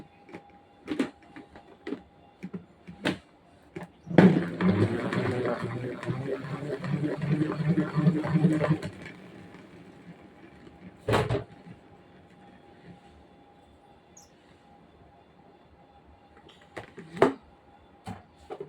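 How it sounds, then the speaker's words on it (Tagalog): A salad spinner whirls washed basil leaves, a rattling, whirring burst of about four seconds between isolated clunks and knocks, with a person talking around the handling sounds. "Lagay natin dito may spinner para mawala yung tubig."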